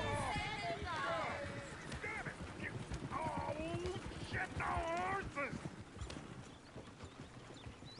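A horse gallops in the Western video game Red Dead Redemption, its hooves drumming a rapid, steady clip-clop. Voices and a whinny-like call sit over the hoofbeats, which fade somewhat toward the end.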